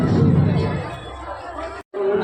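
Dense crowd chatter at a busy fair held during a Shri Ram Mahayagya at Rupauli Lakhnaur, a loud continuous babble of many voices close by, briefly cut off near the end.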